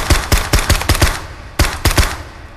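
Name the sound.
suppressed gunshots from a rifle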